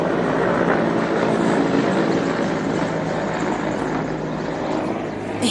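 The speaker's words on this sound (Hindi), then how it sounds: "और आ गया हेलीकॉप्टर, देखो ये दिखाती हूँ।" A helicopter passes overhead above a home garden, a loud, steady rotor and engine roar that fills the whole stretch and fades slightly toward the end.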